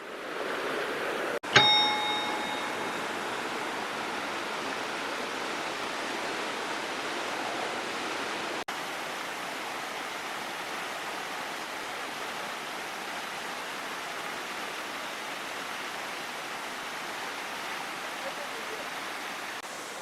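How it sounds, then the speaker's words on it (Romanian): A small waterfall in Japan rushes as a loud, steady broadband roar filling the whole stretch, with a brief metallic ding near the start. "am ajuns la cascadă, nu știu dacă mă puteți auzi pentru că se aude foarte tare"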